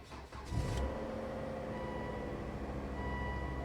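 A car engine with 82,000 miles starts with a brief rumble, then settles into a steady, close idle that hums continuously with no talking.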